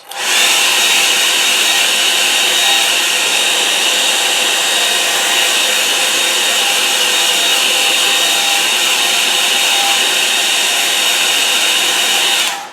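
Hair dryer blowing steadily on a watercolour painting, a loud continuous close whoosh with an even whine that holds for about thirteen seconds and cuts off at the end, no voices.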